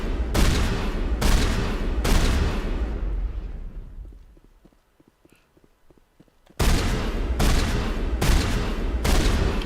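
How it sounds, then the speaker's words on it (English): Heavy sniper rifle in Mass Effect firing at conduits, a dense barrage of loud blasts in rapid bursts that cut out into near silence with faint clicks, then resume abruptly. "It takes less time to shoot these conduits with this big sniper rifle than it does just using a"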